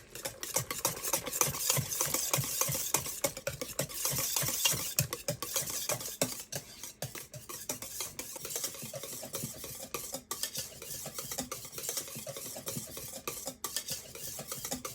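A utensil stirs pumpkin puree into thick brownie batter, making rapid rhythmic wet scraping strokes against the bowl that continue steadily throughout.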